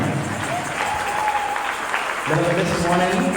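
Church congregation clapping during a lively worship service, steady crowd applause throughout with voices mixed in and a brief sung tone, swelling louder near the end.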